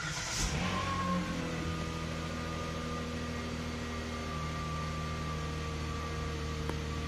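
A 2011 Hyundai Azera starting from cold, a brief crank and catch giving way to a steady, even idle hum with a constant drone that holds at an unchanging level close to the microphone.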